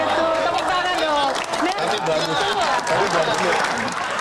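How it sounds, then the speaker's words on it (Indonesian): An audience applauding during a question-and-answer session, dense continuous clapping with crowd murmur mixed in, and voices talking over it throughout. "tepuk tangan dong"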